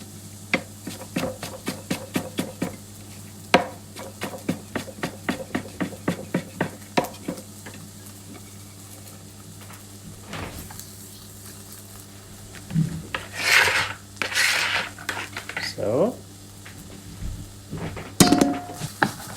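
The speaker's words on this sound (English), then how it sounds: "So the onions are sauteing." Onions saute in a pan without oil, heard as quick scraping strokes of a utensil against the pan in a rapid series, then a pause and louder hissing bursts and scrapes close by.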